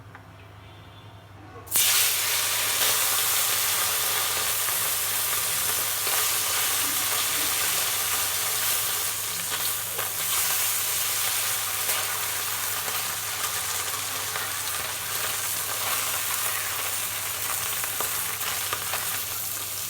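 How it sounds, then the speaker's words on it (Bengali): Fish pieces fry in hot oil in a pan. A sudden burst of sizzling starts early and settles into a loud, continuous crackling hiss close by, with no one speaking. "এই তেলে আরেকটু তেল দিয়ে বাকি মাছটা ভেজে নেবো"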